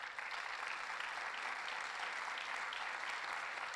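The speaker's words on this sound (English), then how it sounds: "Please give yourselves a round of applause." An audience claps steadily throughout, a dense even wash of applause heard from a moderate distance.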